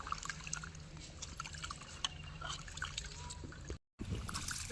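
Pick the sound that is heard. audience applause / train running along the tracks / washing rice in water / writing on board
washing rice in water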